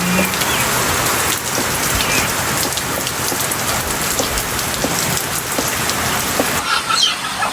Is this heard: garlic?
no